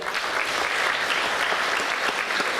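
Audience applause fills a hall at a Berdychiv jubilee evening marking 75 years of Ukrainian composer Oles Koliada, a dense, steady clapping that holds at even loudness throughout with no voices over it.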